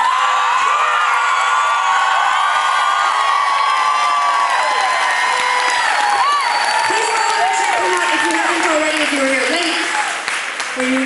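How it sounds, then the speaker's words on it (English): Concert crowd at the 9:30 Club in Washington, DC applauding and cheering for the support act at a show, a loud, sustained wall of clapping and whoops that fades slightly at the end. "please give a massive, the biggest round of applause of the entire evening for our incredible support act"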